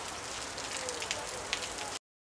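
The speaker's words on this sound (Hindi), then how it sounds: "कैसा रहा है छोटी वीडियो पानी बारिश वाला और हमारे गांव का है और बारिश वाला सीन" Steady rain falls in a village, a soft continuous hiss of drops on surfaces with a few louder splashes, fairly faint and close, with no voices.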